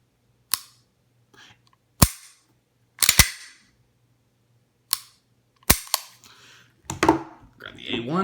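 A Beretta 92A1 pistol being dry-fired, with sharp, close metallic clicks of hammer cocking and trigger release spaced irregularly across the stretch, a couple in quick pairs, plus faint handling rustle and a brief murmur near the end.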